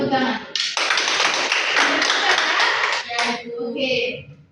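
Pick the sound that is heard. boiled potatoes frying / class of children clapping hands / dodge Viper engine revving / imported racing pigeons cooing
class of children clapping hands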